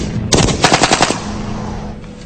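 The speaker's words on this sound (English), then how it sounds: "test number 3 is all about accuracy with continuous fully automatic fire" Fully automatic gunfire comes as one loud, rapid burst of about eight close shots, followed by a lingering echoing tail.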